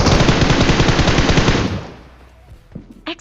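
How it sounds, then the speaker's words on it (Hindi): Rapid automatic gunfire in a mobile shooter video game, a loud close burst of fast repeated shots lasting about a second and a half, then fading into quieter game sounds with a couple of brief thumps. "अब पीछे से बराबर फायरिंग करता हूँ"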